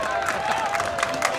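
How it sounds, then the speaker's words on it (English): A crowd roars at the Boston Open men's squash final after a game is won, a steady loud cheer with scattered claps and shouts. "Now we got the roar from the crowd."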